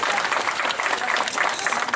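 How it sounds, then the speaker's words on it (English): Audience applause at a zoo bird show, a steady, dense patter of many hands clapping close by, holding even for the whole moment with no voices over it. "Everyone give him a big round of applause and say thanks."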